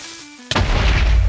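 A faint steady tone, then a sudden loud blocky Minecraft creeper explosion that bursts out and keeps rumbling to the end.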